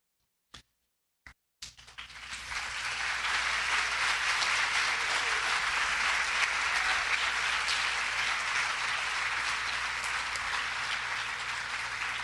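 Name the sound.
applause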